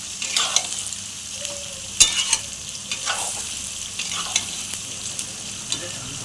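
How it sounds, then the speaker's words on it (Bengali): Capsicum and onion fry in a wok with a constant bright sizzle and occasional sharp scrapes and stirring clatters, close and fairly loud. "দেখতে পাচ্ছ ক্যাপসিকাম আর পেঁয়াজ ভাজছি।"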